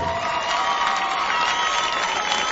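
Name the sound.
applause for a boxer at a title fight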